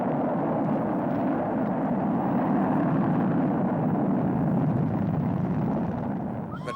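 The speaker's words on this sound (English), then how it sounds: "Then he set off the rocket." A rocket being set off in a children's story, heard as a steady, loud roaring rush of thrust that holds for several seconds before easing slightly at the end, with no voices.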